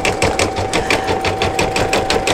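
An embroidery sewing machine stitches an in-the-hoop mug rug with metallic thread, making a loud, close, rapid rhythmic clatter of regular needle strokes over a steady motor whine.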